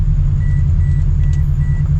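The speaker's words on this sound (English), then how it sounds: "it sounds cool because it's got the rumble now, the Subaru rumble" Subaru BRZ flat-four with aftermarket headers idling or cruising, a loud, continuous low burbling rumble close up, steady throughout with no talk.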